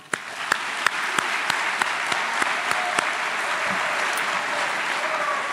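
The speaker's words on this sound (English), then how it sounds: "Let's give them a round of applause." An audience at a 2018 high school graduation ceremony claps steadily and evenly, a dense wash of applause with a few louder, sharper individual claps standing out throughout.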